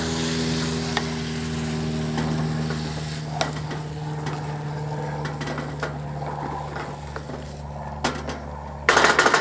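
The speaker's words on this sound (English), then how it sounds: "so I'll add my prawns, get the sizzle" Steady sizzling of prawns frying in hot oil for gambas al ajillo, with scattered clinks and scrapes of a utensil against the pan and a louder clatter at the end.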